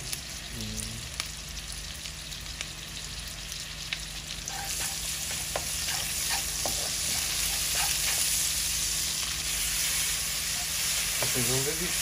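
Minced ginger and garlic sizzle and fry loudly in a pan, with a constant hiss, clinks and scrapes from stirring, and brief speech at the start and end.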